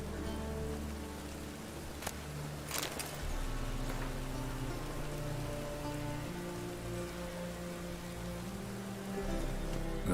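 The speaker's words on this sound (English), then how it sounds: "Looks like rain." Rain falls steadily in The Witcher 3: Wild Hunt, a constant soft patter of drops on surfaces with low ambient hum underneath and a few brief sharper ticks, no speech.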